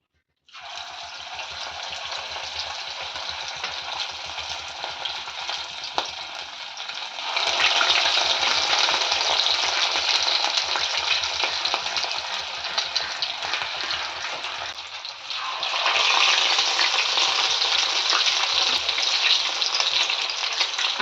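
Marinated homemade chicken kabab frying in a pan, a loud continuous sizzle that starts abruptly and swells stronger in two later surges, close and steady, with no talking.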